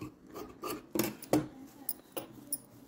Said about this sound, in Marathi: आता हा एक्स्ट्राचा जो आहे ना हा आपण कापून टाकू आधी